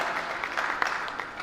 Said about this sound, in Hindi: आपके लिए भी एक बार जोरदार तालियां हो जाएं।